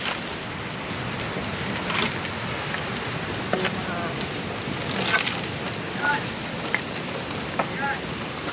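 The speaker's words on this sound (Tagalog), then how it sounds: "Kaso yung hangin talaga." Wind gusting across a microphone at a sanctuary in Ternate, Cavite, a steady broadband rumble and hiss with occasional bumps, while voices talk faintly in the background.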